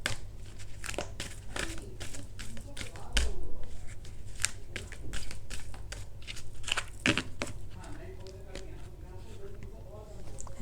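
Tarot cards being handled and shuffled in quick crinkly, papery bursts at close range, repeating irregularly throughout, with someone speaking in Hindi over them.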